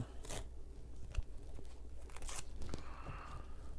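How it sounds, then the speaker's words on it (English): Painter's tape torn from the roll and pressed onto wood boards for a box, with a few sharp ripping bursts and crinkles at close range, quiet between strips, no talking. "Just going to use some painter's tape"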